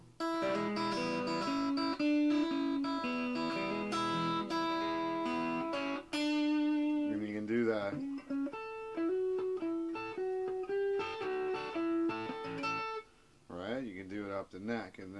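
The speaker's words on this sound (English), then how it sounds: "a riffy comping thing that you can use either for soloing or playing rhythm" Bluesy electric guitar riff in E, usable for rhythm comping or soloing, plays alone up close: a run of picked notes and short chord stabs with slides and bends, brief pauses near the end.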